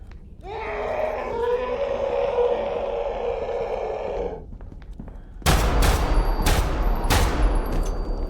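Gunfire in the Roblox game Grave/Dig, aimed at an enemy in a cave: a sustained roaring tone first, then a sudden loud stretch of sharp, rapid shots, close and dominant.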